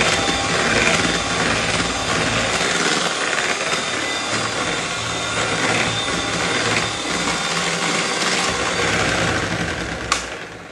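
An electric mixer beats chocolate ganache into cream for a chocolate mousse cream filling, giving a steady, loud, continuous mechanical whir that holds for the whole stretch with no pauses.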